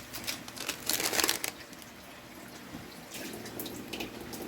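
Water runs from a tap into a pot in a brief louder splash, then trickles softly, quiet and close, with no talking.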